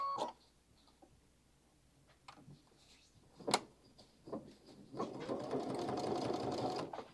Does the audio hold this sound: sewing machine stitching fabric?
yes